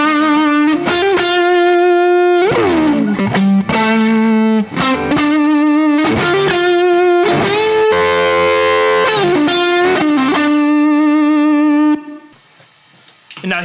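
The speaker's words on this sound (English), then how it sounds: "so I'll give you a little bit of sound with that fuzz." Electric guitar through a thick silicon fuzz pedal playing a sustained, buzzy riff with bends and held notes, loud and close, ending in a quieter tail.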